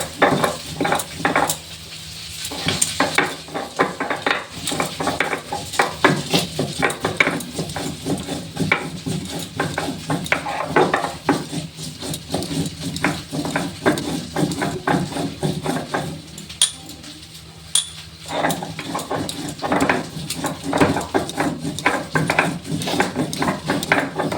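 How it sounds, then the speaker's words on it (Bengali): Dried green chilli and cumin being ground into a paste on a grinding stone, a steady run of scraping, knocking strokes throughout, close and fairly loud, with a couple of brief pauses. "আমি একটু বেটে নিচ্ছি শুকনো কাঁচা লঙ্কা আর জিরা বাটা"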